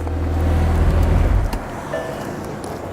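A McLaren 720S engine idles with a deep, loud rumble close by, then cuts off about halfway through, leaving a faint quiet hum and small clicks.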